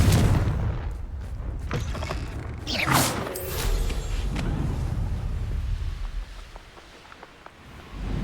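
A fiery Confringo spell explosion from the Hogwarts Legacy video game on PC, a loud booming blast with a rushing, whooshing burst near the middle, surrounded by rumbling, creaking in-game combat noise that fades toward the end.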